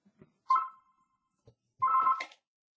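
A phone rings twice during a live webcast recording, each short electronic chirp clear and close, separated by a quiet gap with faint soft noises.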